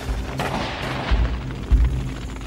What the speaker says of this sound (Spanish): Enseguida comenzamos a oír disparos de mosquete y vimos llamas.